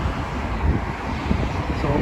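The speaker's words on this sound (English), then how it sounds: "it's too windy" Wind gusting hard outdoors on Chandos Street in Liverpool, a constant low roar of buffeting against the microphone that lasts for about two seconds.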